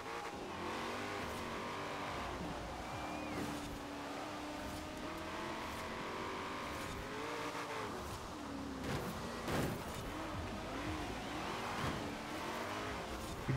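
In Forza Horizon 4, a Ford Falcon FE engine drones and revs continuously as the car struggles with wheel spin on a rain-soaked road, with faint tire noise underneath.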